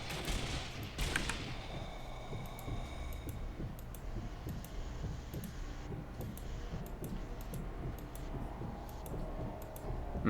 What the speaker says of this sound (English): I'm shooting this guy.